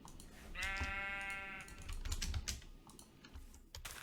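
A sheep bleats once in a video game, a harmonic baa lasting about a second, heard over a busy clatter of keyboard typing that continues throughout.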